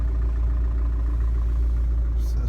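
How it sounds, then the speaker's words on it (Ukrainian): A 2010 Opel Meriva engine idling, a steady low rumble close to the microphone with an even, unchanging hum throughout. "Мотор працює як часи"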